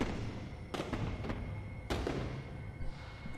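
Fireworks bursting in the No Man's Sky survival game: two loud booming explosions about a second apart, with softer crackling pops between and after, alone with no talk.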